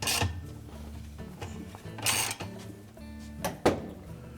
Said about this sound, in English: We'll have to hold the base of the agitator to tighten the bolt.